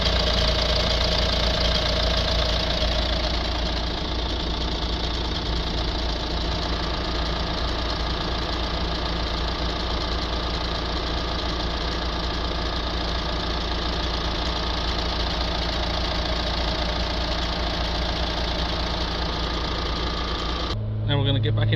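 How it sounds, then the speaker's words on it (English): A Renault Trafic van's diesel engine idles steadily and continuously at close range with a clattering hum, running while a diesel particle filter cleaning fluid is pushed into the engine. "now we've got the engine started and we're going to press and hold, get the rest of the fluid pushed in the engine with the engine running"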